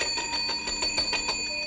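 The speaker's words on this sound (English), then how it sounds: "Is that the night bell?" A town night bell rings with rapid, even strikes, about eight quick metallic tolls in under two seconds at moderate volume, with lingering overtones.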